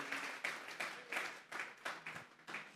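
Congregation in a church service clapping in a steady rhythmic pattern, roughly a dozen soft bursts of handclaps, fairly faint and a little distant, with no talking over it.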